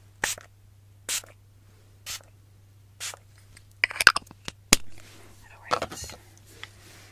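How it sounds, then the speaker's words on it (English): Priming spray hisses onto a face in a series of short, close bursts, about eight quick spritzes spaced irregularly with quiet gaps between them. "I am gonna put some priming spray on you on top of that, just to get your skin primed"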